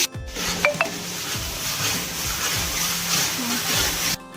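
Onion paste goes into hot oil with spluttered mustard and cumin seeds for a Nellore-style Telugu fish curry, giving a continuous close sizzle with light stirring and pan scrapes under a person's voice.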